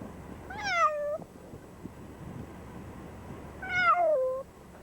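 A cat out in a snowstorm gives two clear, drawn-out meows a few seconds apart, close by against a quiet snowy backdrop.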